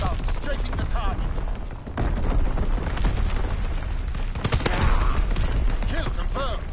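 Rapid video game gunfire from a fighter pilot strafing run on PS4, dense crackling bursts and booming impacts layered over a chaotic battle soundscape, loud and continuous.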